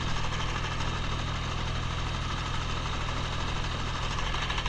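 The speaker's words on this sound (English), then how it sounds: "this is just a Ford 2000 utility tractor" A Ford 2000 utility tractor engine runs a sickle mower while mowing hay, a loud, steady mechanical drone with a low, even throb that holds unbroken throughout.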